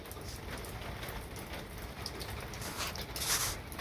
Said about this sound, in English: Hear those raindrops falling?